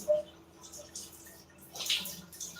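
Shower water running in a bathroom, a soft splashing, hissing flow with brief louder spurts, fairly quiet and close.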